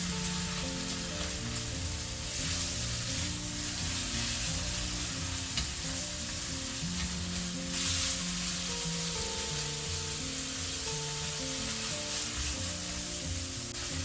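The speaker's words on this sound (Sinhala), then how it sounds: "මේ ටික දාගෙන මේ ටික හොඳට ටෙම්පරාදු කරගන්න" Salt and soy sauce tempering in a hot pan for egg bread masala, a loud continuous sizzle with steady stirring scrapes close by, no voices.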